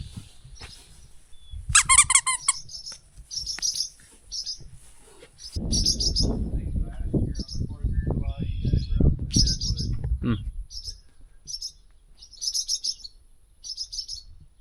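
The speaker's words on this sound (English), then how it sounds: "There's some birds on your house" Small birds chirp and tweet around a house at a feedlot in bright, repeated bursts, while a low rumbling noise and faint voices rise beneath them through the middle stretch.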